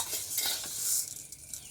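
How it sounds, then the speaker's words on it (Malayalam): Horse gram dry-roasting in a pan is stirred with a utensil, soft scraping and light sizzling strokes repeating at close range, with no voices. "നമുക്കിത് വേഗം വറുത്തെടുക്കാം"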